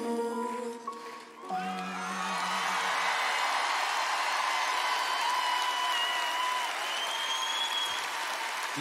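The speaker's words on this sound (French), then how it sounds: "On les applaudit bien fort, mesdames et messieurs" A concert audience applauds the singers after a tribute song, with the music's final sung note trailing into loud, sustained clapping and scattered cheers and whoops from a large crowd.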